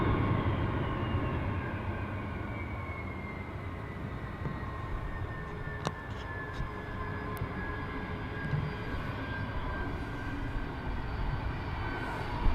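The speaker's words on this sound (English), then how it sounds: "Huge reverse thrust sound there from the Delta." A Delta airliner using reverse thrust while landing at Dublin Airport gives a broad, steady roar heard from a distance, holding level throughout with a few faint clicks and a slight swell near the end.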